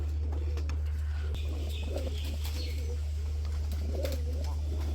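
Garra pigeons cooing in soft, repeated low calls over a constant mechanical hum, with faint chirps around them.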